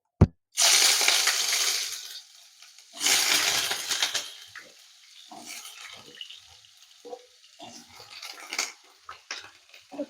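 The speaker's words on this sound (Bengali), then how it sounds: "তেলটা গরম হয়ে গেছে, আলুগুলো ধুয়ে রেখেছিলাম দিয়ে দেব।" Washed potatoes dropped into hot white oil in a wok, a loud sharp sizzle that bursts up twice and then settles into softer, intermittent crackling and spattering.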